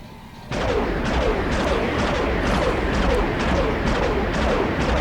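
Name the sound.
starship laser beams firing in Star Wars Galaxies video game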